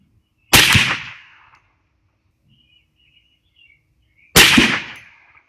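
Two loud sharp rifle shots from a .350 Legend Anderson AM15, spaced about four seconds apart outdoors, each cracking sharply and ringing briefly into silence, with faint birdsong in the gap.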